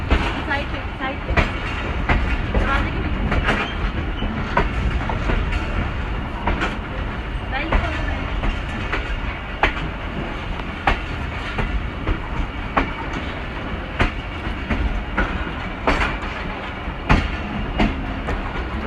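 Steady rumble and rhythmic clickety-clack of the Hazara Express moving along the rails after leaving Sargodha Junction, heard from inside the carriage with loud continuous wheel noise throughout.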